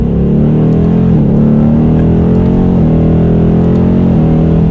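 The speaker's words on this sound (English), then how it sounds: "Just getting up to some speed, seeing what it's like, get the second gear." A 2020 Ford Mustang GT with a torque converter automatic transmission accelerates hard from inside the cabin, its loud, steady engine drone climbing in pitch and then briefly dipping at several quick gear shifts.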